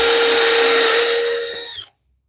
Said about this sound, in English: I think the pocket screw is going to be the way to go here